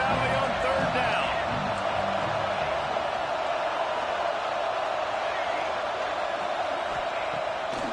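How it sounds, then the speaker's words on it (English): A big crowd roars at a college football game in Happy Valley on third down, a dense, sustained wash of noise filling the stadium while a commentator talks over it. "Here comes the noise from this big crowd in Happy Valley on third down."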